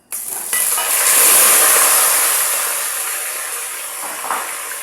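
Chicken and potatoes dropped into hot oil for Adeni zurbian sizzle and hiss loudly after a brief clatter, the bright frying noise swelling and then slowly settling while it continues steadily.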